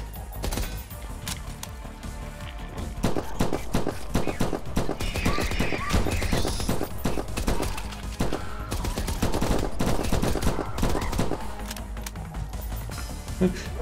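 Assault rifle fire from the From Space game, dense rapid bursts running almost continuously at steady loudness, with a voice talking over it in places.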